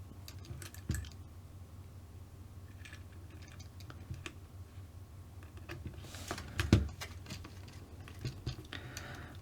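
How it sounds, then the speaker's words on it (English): Small screws being started by hand into the plastic housing of a Flysky ST8 radio transmitter, giving light scattered ticks and faint scraping clicks up close, with a slightly louder clatter partway through over a low background hum. "So I'll just start these screws off first."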